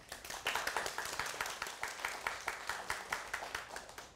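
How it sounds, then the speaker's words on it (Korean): Audience applause at a televised lecture on Korean real estate, a brisk run of overlapping hand claps at moderate distance, fairly even in level throughout with no talk over it. "박수."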